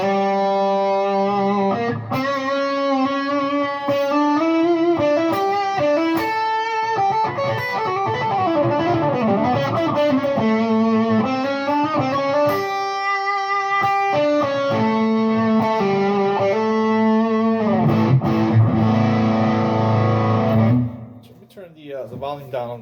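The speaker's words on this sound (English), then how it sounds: "Let's do the Cerberus distortion." Electric guitar from a Peavey Predator Frankie Kamikaze build, played through a Cerberus distortion pedal: loud, sustained distorted chords and riffs ring continuously for about twenty seconds, then cut off abruptly.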